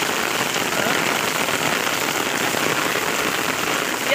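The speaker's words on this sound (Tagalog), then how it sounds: "Ang lakas ng ulan." Heavy rain pours down steadily on surfaces nearby, a dense, loud, unbroken hiss that continues without pause for several seconds with no voices.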